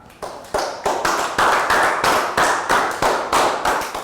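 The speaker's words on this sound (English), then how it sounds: "Big round of applause for Pat." A Year 3 English class claps for a classmate, a series of loud, evenly spaced group claps in a steady rhythm, each burst ringing briefly before the next.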